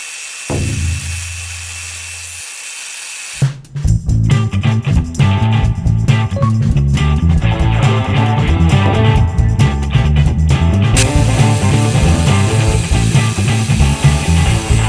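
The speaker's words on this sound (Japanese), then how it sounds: "ではでは、この機械でねちょっと切っていくんで" Power tool cutting through the steel rear fender of a 2020 Harley-Davidson Sportster Iron 1200: a brief whir, a pause, then a loud continuous grinding, buzzing cut lasting about eleven seconds before easing slightly, with no talking.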